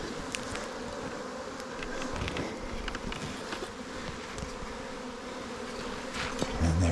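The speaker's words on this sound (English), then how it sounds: "a lot of bees" Honeybees from a swarm colony clustered on two branches, heard as a steady, close, many-voiced buzzing hum with individual bees flying past the microphone, and no talking.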